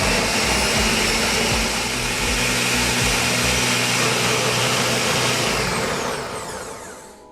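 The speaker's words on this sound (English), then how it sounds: "Cranking up the Ninja. Give it some power." A Ninja blender whirs at full power blending jerk seasoning, a loud continuous motor roar with grinding texture that winds down and fades in the final second.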